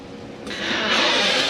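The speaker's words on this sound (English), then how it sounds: "Just let you see your awning come out." The electric awning motor on a Northpoint 377RLBH fifth-wheel RV whirs as the awning extends, a steady mechanical hum that starts and grows louder partway through, up close.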